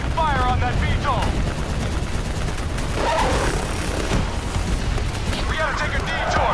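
Loud, sustained gunfire from the video game Black Ops 3 during a campaign firefight, with bursts of automatic fire and booms mixed with shouted voices and radio chatter.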